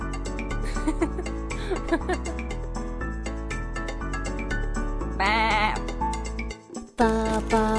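A sheep bleats in a wavering call and later again over a bouncy children's nursery-rhyme backing track, loud and clear against the music.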